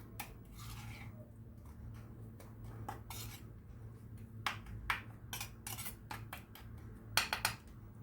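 A spoon stirs a cumin and lemon spice mixture for fish in a bowl, giving quiet clinks and scrapes that sharpen into a cluster of metallic taps near the end.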